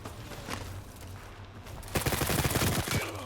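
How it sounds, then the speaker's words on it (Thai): Enemy gunfire rattles in Battlefield 2042: a few scattered shots, then a dense, loud automatic burst from about two seconds that carries to the end over a low engine-like drone. "มีคนยิงมาฮะ"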